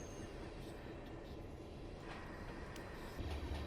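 Steady, close rumble of a freight train rolling through the Feather River Canyon in Train Sim 22, a continuous low drone with faint squeals above and a slight swell near the end.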